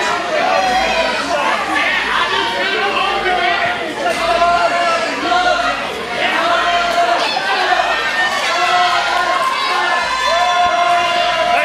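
A wrestling arena crowd roars and chants continuously, loud and dense, with shouts and cheers rising in rhythmic waves throughout.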